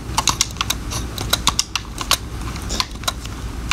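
Game controller buttons clicking in quick irregular bursts, close and crisp, with no talking.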